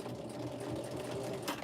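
A sewing machine runs steadily, back stitching over fabric seams on a pocket tissue pack cover, with a continuous close motor whir for the whole short stretch.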